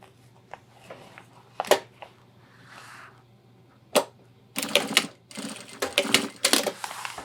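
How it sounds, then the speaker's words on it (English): A sewing machine tack-stitches a cord holder onto the side panel of a homemade 30L ultralight hiking backpack, running in short bursts with pauses between them, loud and close, with faint handling noises in the gaps. "you're going to stitch it, tack stitch onto the side panel"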